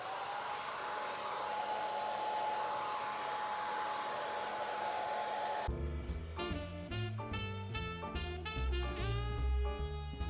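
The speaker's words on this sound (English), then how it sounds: "And it's universal, so it fits on pretty much any hair dryer. So now we're going to diffuse." A hair dryer fitted with a universal diffuser attachment blows steadily on curly hair, a continuous close airy whir that is soon joined by loud music over it.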